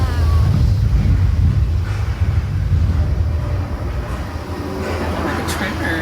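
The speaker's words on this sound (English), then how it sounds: "I think this is like a major earthquake." Deep, heavy rumble of a major earthquake in a TV drama scene, a loud continuous low roar with rattling that eases slightly midway, with faint voices underneath.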